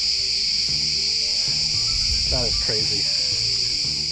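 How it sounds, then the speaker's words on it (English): A loud, constant high-pitched cicada drone fills the air on a Yen Tu Mountain trail, with a person saying a word partway through. "That is the loudest cicada I've ever heard."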